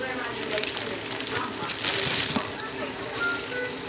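Homemade nacho cheese with cream cheese melting in a pan, a steady hiss of sizzling that swells briefly in the middle, with faint clinks and someone speaking nearby.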